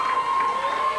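A Memphis wrestling arena crowd cheers for the King, a dense, steady roar of many voices with a sustained tone running through it, loud and continuous throughout.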